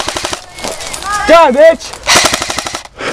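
Airsoft rifles such as an L96, KWA SR7 and Magpul Masada firing in a backyard game, with rapid repeated bursts of loud close shots mixed with shouting voices.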